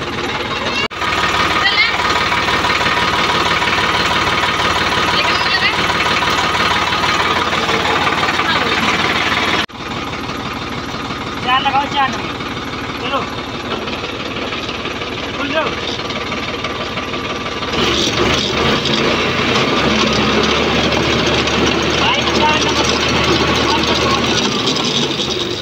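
A Sonalika DI 50 RX tractor engine drives a pulley system for irrigation, a steady loud diesel chug with mechanical clatter running throughout, close up, with people talking over it.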